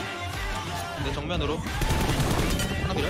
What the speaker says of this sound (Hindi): सब लोग गन चला रहे थे